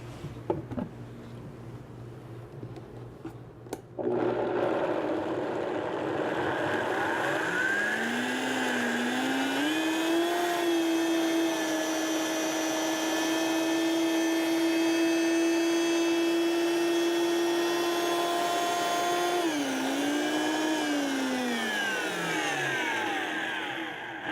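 A blender grinds raw onion for vegan sour cream, starting abruptly after a quiet moment, then settling into a steady loud whir with a rising and falling motor pitch before winding down near the end, with no talk.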